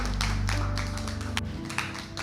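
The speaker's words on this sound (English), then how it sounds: "Let's give Pastor Tiffany a round of applause." Church congregation clapping for a pastor: irregular claps and taps over a sustained low organ or keyboard chord, with the music shifting partway through.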